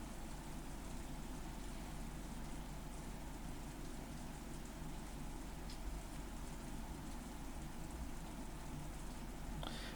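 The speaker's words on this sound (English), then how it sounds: "All that could be heard was the sound of the rain" Steady rain falling as an ambient sound effect in the Umineko visual novel, a soft, even hiss of drops on surfaces continuing unbroken throughout.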